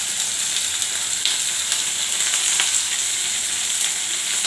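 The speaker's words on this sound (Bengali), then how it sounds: "তাই এখন তেল দিয়ে দিচ্ছি কড়াইতে, কুদুলি ভাজাটা বানাবো" Sliced kundri (ivy gourd) frying in oil in a wok gives a steady, close sizzle and hiss, broken by a few faint crackles, with no voices.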